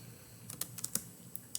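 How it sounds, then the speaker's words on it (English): Typing on a computer keyboard while writing a student paper in Google Docs: a quick run of faint, light key clicks in an irregular rhythm with no voices. "just kind of keep typing until I get to the end of my introduction"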